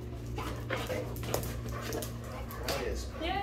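A large dog whimpers and pants at an animal shelter, with soft whines and breathy yips close by while people talk over it.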